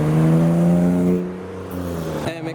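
A V8 car passes at a Japanese car meet in Reading, a loud, deep, steady engine drone with strong harmonic tones that drops in pitch as it moves by and fades.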